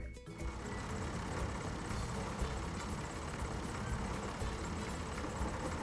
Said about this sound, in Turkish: Traktör kutuları getiriyor